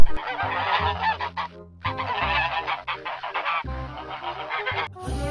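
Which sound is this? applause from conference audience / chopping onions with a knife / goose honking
goose honking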